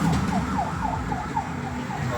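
An ambulance siren wails in a repeating rising-and-falling pattern, moderately distant, over steady traffic and road noise near a flyover widening project.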